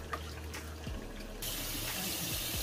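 Spinach washed under a running tap: a steady splashing stream of water into a sink that grows louder and fuller midway through.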